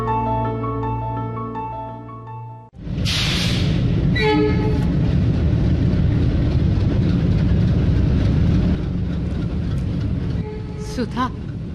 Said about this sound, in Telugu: అప్పుడే రైలు వచ్చేస్తోంది